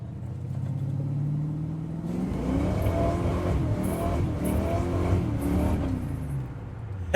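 A car engine revs and pulls hard while driving, its note rising and falling in repeated surges over a steady rumble, close and loud, with no talking.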